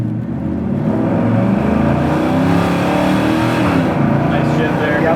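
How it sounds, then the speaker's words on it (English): A 1969 Chevy El Camino with a column shift revs and pulls through its gears, a loud, close, rumbling exhaust rising in pitch, with a voice speaking over it. "I'm going to go through the gears because you can still do that with a column shift car."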